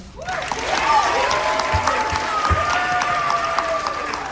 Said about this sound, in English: warm round of applause for MPA's new head of school, Dr. Cavallone